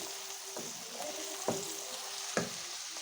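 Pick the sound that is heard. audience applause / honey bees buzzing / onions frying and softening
onions frying and softening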